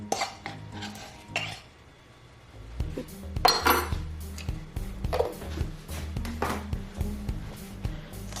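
Salt and baking powder are stirred in a bowl for spiced speculaas cookie dough, with repeated close clinks and scrapes of a metal utensil against the bowl, first sparse, then a steady rhythmic mixing.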